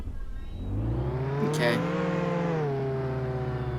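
An engine revs in the Roblox Jailbreak video game, a tow truck rising in pitch as it accelerates and then holding a steady whine, with a brief spoken remark.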